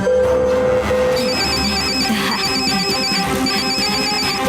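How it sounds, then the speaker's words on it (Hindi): A phone ringtone repeats in steady electronic bursts over a busy background of music and noise, ringing on with no one picking up. "शिवा फोन नहीं उठा रहा है।"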